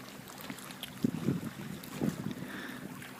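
Wind blows steadily beside the water, with a soft rushing hiss and low rumbling gusts buffeting close to the microphone.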